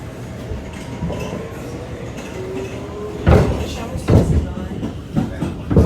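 Riding inside an R211 A train on the New York City subway: a constant rumbling rail hum with faint rising motor tones, then louder rhythmic clacks and thumps as the car rolls over track joints, close and continuous.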